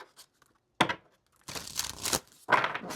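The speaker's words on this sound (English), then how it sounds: "This deck is fun to shuffle." A tarot card deck being shuffled by hand, several bursts of riffling, flapping card noise separated by short pauses, close and fairly loud with no talk.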